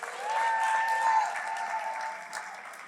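Audience applause at a school arts night, a steady wash of clapping from a crowd, fairly loud and even throughout, swelling slightly then holding.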